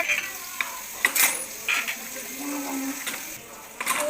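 Ginger, garlic and green chilli paste sautés in a pan for biryani, with soft sizzling, scraping and stirring strokes and a few sharp utensil clicks, close and moderately quiet.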